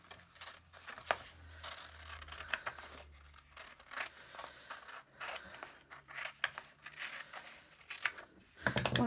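Scissors snip along folded paper during a craft demonstration, a series of close, crisp cuts with rustling and handling noise between them and no talk.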